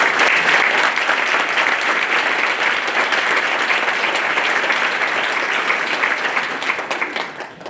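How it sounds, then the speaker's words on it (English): A hall full of people at a student awards ceremony claps steadily for nearly eight seconds, loud and dense, thinning slightly at the end. "a round of applause for coordination of this event"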